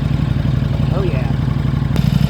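A KTM RC8R sport motorcycle's engine runs at a steady, close idle, its low rumble continuous throughout, with a sharp knock near the end and a voice speaking over it.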